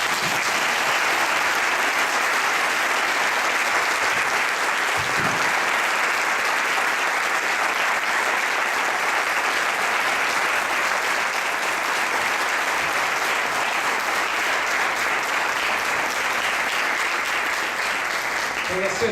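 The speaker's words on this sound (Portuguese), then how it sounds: "Queria que você aplaudisse os formandos." An audience at a graduation ceremony applauds the graduates with dense, sustained clapping at a steady loud level for the whole stretch, with no break.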